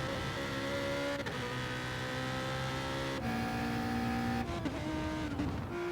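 GT3 race cars in the Gran Turismo Sport video game, several engines droning and whining at once with gear shifts and pitch drops, a steady loud pack of motors without talk.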